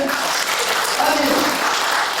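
Audience applause at a church elders' lecture on elder duties and session management, a steady dense patter lasting a couple of seconds with voices mixed in.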